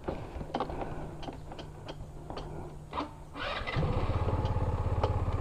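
A SYM Tuscani 150cc classic scooter cranks with a few clicks and mechanical ticks, then fires up near the end and settles into a steady, close puttering idle.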